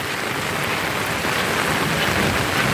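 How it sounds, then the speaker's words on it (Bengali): Steady, heavy rain pours down in a dense, even hiss of drops on surfaces, with no voices. "সারাদিন ব্যাপী এরকম বৃষ্টি"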